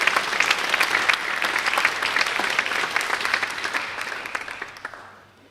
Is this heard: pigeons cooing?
no